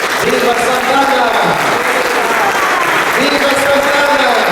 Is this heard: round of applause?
yes